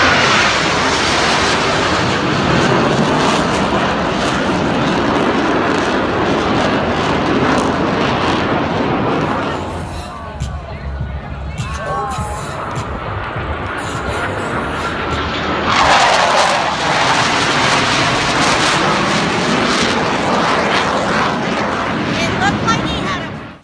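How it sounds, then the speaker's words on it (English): Blue Angels F-18 jets at an air show roar loudly overhead, a sustained broadband jet rumble that dips briefly midway before a second jet surges back in close and loud. "here's a look at the Blue Angels. And I think the Blue Angels are F-16s or F-18s"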